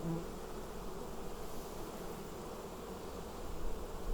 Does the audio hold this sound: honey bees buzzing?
yes